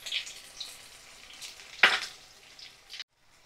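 A spice masala with turmeric, salt and Kashmiri red chilli powder frying in a pan gives a faint, soft sizzle. One sharp scrape or clatter stands out partway through, and the sound cuts off abruptly near the end.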